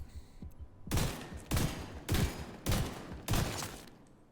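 Gunfire in The Division 2 shooter game, five loud, evenly spaced bursts of rapid shots roughly every half second, each a dense close blast ending in a short tail, no talk.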